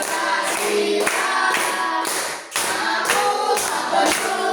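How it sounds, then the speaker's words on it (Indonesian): A group claps hands in steady rhythm along with a sung patriotic Indonesian song, the claps loud and close, repeating through the whole stretch with one short dip near the middle. "Sambil tepuk tangan."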